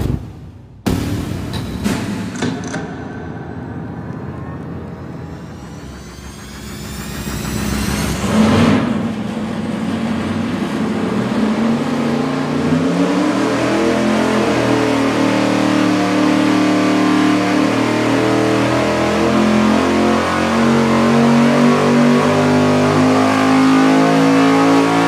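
A big-block Chevy V8 engine barks to life with sharp revs, then settles into a loud, steady rumbling idle that slowly climbs in pitch.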